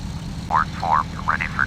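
A propeller aircraft holds at the runway for a departure from New Orleans, giving off a steady low engine drone. A voice talks over the hum.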